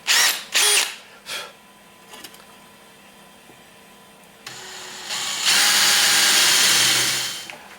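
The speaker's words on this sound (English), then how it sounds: "I'm going to go ahead and drill those out now" A power drill whirs loudly in three short bursts, drilling out holes during a Kawasaki KLT 200C tank and cover restoration, then falls quiet before one longer, steady run of drilling near the end.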